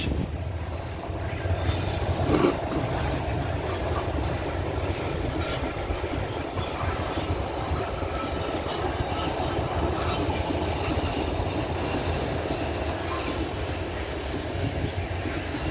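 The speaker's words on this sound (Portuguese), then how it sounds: "Ah, o trem passando de novo." A train rolls past close by in Itapina, Colatina, Brazil, with a continuous loud rumble of wagons and rhythmic clickety-clack wheel beats. Faint metallic squeals run along the steady noise for the whole stretch.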